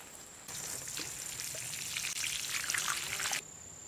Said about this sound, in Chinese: 来给菜浇点水呀，这好久没下雨了，每天都要浇水